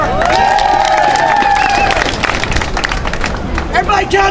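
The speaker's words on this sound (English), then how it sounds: "She's brave, clap for her!" A lively crowd claps and cheers at close range, with excited voices and shouting mixed through the noisy burst of applause.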